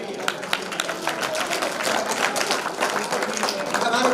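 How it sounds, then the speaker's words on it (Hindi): Clapping from guests welcoming people at a retirement gathering, a steady dense patter of many hands lasting a few seconds, moderately close, with voices murmuring underneath. "जोरदार तालियों से स्वागत"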